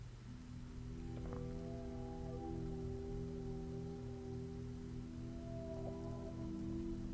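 Steady rain falls in the Dordogne area within a video game, a constant hiss of rainfall spread across the scene with a low droning hum and faint tonal lines beneath, with no talking.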